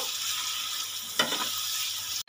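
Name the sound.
sautéing cumin and coriander paste in oil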